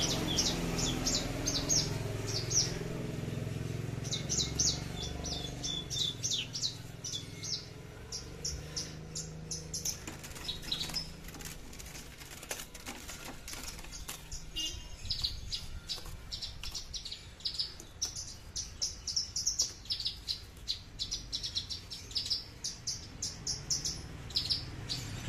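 Javan bush lark (branjangan) kept in a hanging cage delivers long, unbroken bursts of high, rapid chirping and trilling that pause briefly and resume, with a cricket-like buzz and low rumble underneath.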